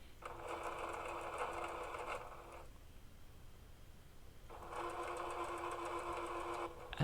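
Sewing machine stitching fabric for homemade shoulder pads, two steady buzzing runs of about two seconds each separated by a quiet pause, fairly close and moderately loud.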